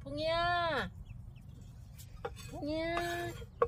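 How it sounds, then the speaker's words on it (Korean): Backyard chickens, with big hens among the flock, give two drawn-out calls, one near the start and another after a short pause, under low rumbling background noise. "저 큰 닭들은 봉이야"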